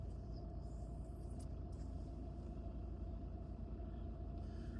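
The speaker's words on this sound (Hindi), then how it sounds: "अभी मैं गाड़ी चला के देख रही हूँ" A Mahindra car fresh from a service centre drives along, its steady engine rumble and road noise continuous and close throughout, with no talk over it.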